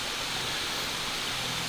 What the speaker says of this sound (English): up this way is the actual waterfall.